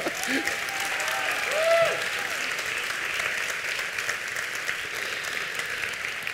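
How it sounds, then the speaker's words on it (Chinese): Audience applause at a TEDx talk in Taipei, sustained clapping from a full hall that holds steady throughout, with a brief swell near the start and no talking over it. "我们给 TEDx 所有的工作团队一个掌声鼓励"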